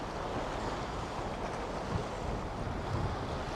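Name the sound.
choppy river water and wind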